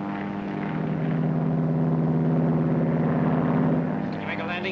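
A propeller airplane drones steadily in flight, its engine a continuous loud hum with strong low harmonics throughout, while people talk over it.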